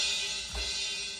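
Crash cymbal from the X Crash plugin, captured through the stereo room mic: a bright, washy shimmer rings steadily through the short excerpt, with a soft low thud near the middle and no voices.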